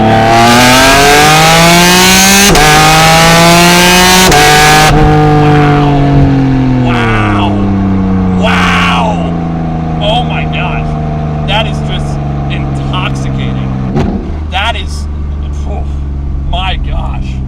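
A 2023 Porsche Cayman GT4RS Weissach engine revs hard and loud through rapid PDK gear changes, the pitch climbing then dropping at each snappy shift, with someone talking over it from inside the car.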